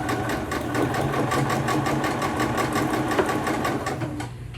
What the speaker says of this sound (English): I'm then going to sew off onto the ender